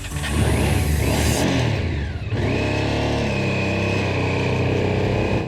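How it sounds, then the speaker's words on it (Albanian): Motorcycles climb a slope in the Pierrët hills of Albania. The engines drone loud and close, revving steadily upward with a strained, continuous roar. "Motorët ngjiten ngadalë në shpatin e Pierrët"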